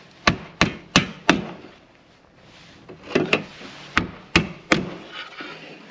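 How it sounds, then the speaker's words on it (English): Sharp hammer blows nailing a metal-clad window frame into wood, four quick strikes, a pause, then several more in an uneven rhythm, close and loud. "I'm gonna start nailing it off."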